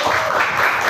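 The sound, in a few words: applause from an audience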